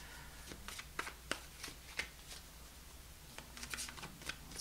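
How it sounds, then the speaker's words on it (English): Tarot cards being shuffled by hand, a steady series of soft riffling and tapping bursts close up, with no talking. "I've been shuffling, so I'm going to make this pretty quick."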